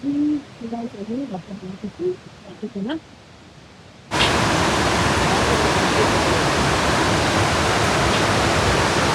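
A few soft tonal hoot-like calls, then a loud, steady rush of the Ghattai Khola stream on the way to Gosainkunda, Nepal, abruptly takes over and continues to the end.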